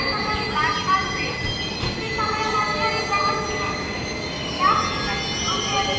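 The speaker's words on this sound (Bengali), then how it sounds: "আমাদের ট্রেনটি এখন খুর্দা রোড জংশনের 3 নম্বর প্ল্যাটফর্ম থেকে 10টা 2 মিনিটে ছাড়লো" The Samudra Kanya Express pulls out of Khurda Road Junction platform, heard from on board as a steady rumble of wheels on rails with intermittent metallic squeals, continuous and fairly loud, with some voices in the background.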